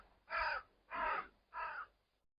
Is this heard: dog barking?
no